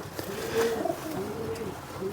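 A long-bodied pet pigeon coos in a few soft, low, rounded calls close by, alone with no talk over a faint background hiss.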